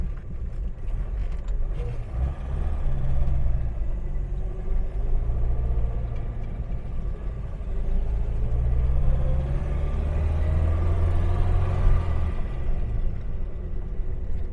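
A 1978 Volga GAZ-24 Soviet sedan rolls in neutral, giving a low continuous road and drivetrain rumble with faint creaks and mechanical noise, close and steady.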